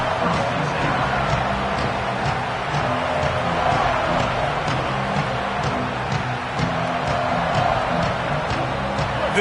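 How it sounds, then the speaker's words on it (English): A dense, steady roar of a stadium crowd at a college football video game, a continuous wall of cheering and murmur with scattered whoops, no break in the noise throughout. "This crowd ready to make its presence known."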